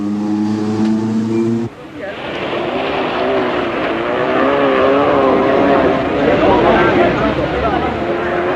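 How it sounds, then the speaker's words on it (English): A 1977 Toyota rally car on the RAC Rally pulls away for a night of special stages in North Yorkshire, its engine droning loudly and wavering in pitch, following a brief tonal hum at the start. "The Toyota of Leif Asterhag heads off for a night of special stages in North Yorkshire."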